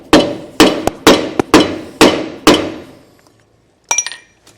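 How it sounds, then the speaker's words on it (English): A drive tool is hammered to seat a dust cap into a trailer hub assembly during Timken grease seal installation: six loud, sharp metallic strikes in a steady rhythm with ringing decay, then a few lighter clinks. "I've got a drive tool so that I can hammer it in to our hub assembly"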